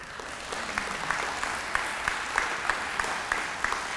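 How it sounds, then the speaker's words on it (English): An audience claps steadily, a dense patter of many hands with a few sharper claps popping out, sustained throughout at moderate distance. "So can we have a nice round of applause?"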